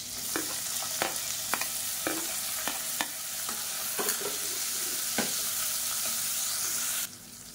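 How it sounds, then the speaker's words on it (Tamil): Onions sizzling in hot oil with fennel, curry leaves and split green chillies, a constant loud fry broken by repeated clinks and scrapes of a stirring spoon against the pan. "இப்போ நீளமாக நறுக்குன்னா பெரிய வெங்காயம் சேர்த்துக்கலாம்."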